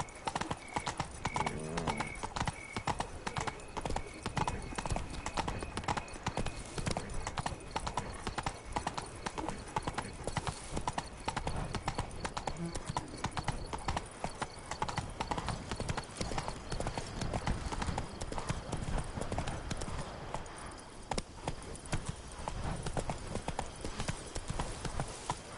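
Horse hooves clip-clopping at a steady galloping rhythm through the whole stretch in The Witcher 3: Wild Hunt video game, loud and continuous with occasional whinnies over a busy game soundscape.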